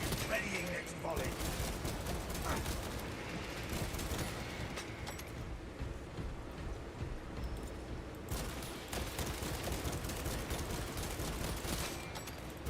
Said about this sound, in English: I love firing the bolt pistol